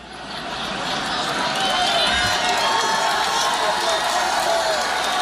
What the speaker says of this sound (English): What kind of crowd cheers after their candidate says, I've said wrong things?